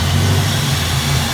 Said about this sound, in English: Sound like I hear Pro Charger. I want to do a pull. I hear that blower.